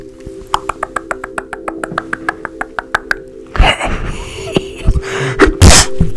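A sharp, loud sneeze bursts out after several seconds of rhythmic clicking and beeping during an ASMR doctor roleplay, followed by rustling noise.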